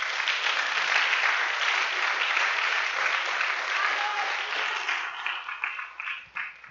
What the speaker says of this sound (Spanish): Denle un aplauso a mi Jesús.